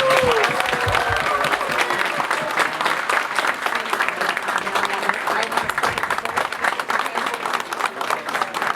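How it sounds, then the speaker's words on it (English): Sustained applause from a crowd at a Haitian community event in Indianapolis, steady dense clapping filling the whole stretch, with a few voices and cheers mixed underneath. "Let's give a round of applause."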